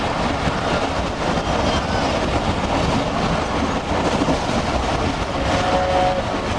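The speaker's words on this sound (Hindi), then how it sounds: "ओकाड़ा कैंट रेलवे स्टेशन से गुजर रही है इस वक्त गाड़ी हमारी।" From inside the Musa Pak Express railcar, a steady loud rumble and rattle of wheels on track fills the cabin as the train speeds through Okara Cantt railway station at over 100 km/h without stopping.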